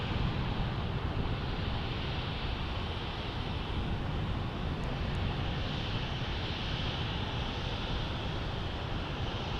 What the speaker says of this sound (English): then we got this 737-700 from Southwest Airlines